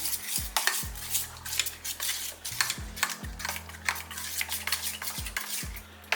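A spoon scrapes and clinks against a pot as yogurt is stirred into egg gravy masala, irregular metallic taps and scrapes over a faint sizzle with low tonal thumps beneath.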